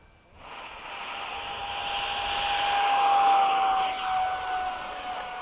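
A Hobby King Sky Sword 70mm model jet with afterburner whines up to a loud, steady roar with a thin high tone on takeoff, swelling and then holding as if accelerating away.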